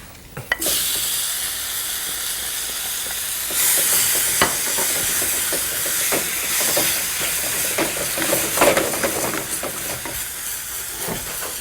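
Steady, loud sizzling and hissing as tomatoes hit hot oil in a frying pan with ginger, a sharp burst at first, then occasional stirring clicks throughout.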